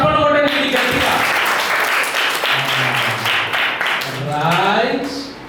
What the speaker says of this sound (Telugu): ఆ చప్పట్లు కొట్టండి గట్టిగా.